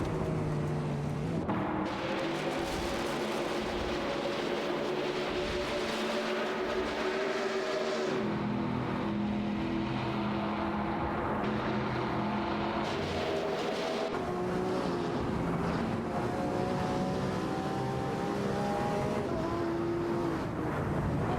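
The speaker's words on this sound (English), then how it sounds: "1999 September and Neistar M are fiercely competing for the 20th position." Race cars in a video game racing simulation, a continuous layered engine drone of several cars revving and shifting pitch, loud and unbroken with no talk.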